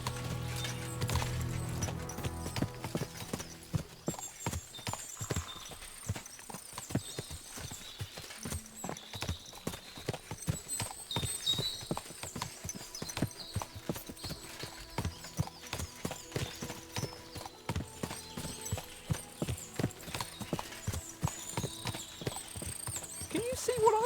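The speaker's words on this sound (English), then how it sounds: "What a lot of horses!" Horses' hooves clip-clop steadily across a medieval setting in the video game Kingdom Come: Deliverance II, with a dense, continuous patter of many hoofbeats at mid distance and occasional voices and faint whinnies mixed in.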